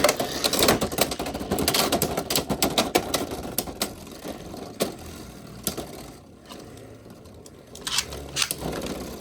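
Beyblade tops Dragoon S and Bronzer S battling in a plastic stadium, a rapid rattling clatter of spinning and colliding tops with sharp clicking impacts, loud at first and then thinning out before another burst of hits.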